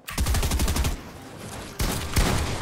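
Rapid bursts of video game gunfire, dense and loud, in two volleys separated by a brief lull, with no talking over them.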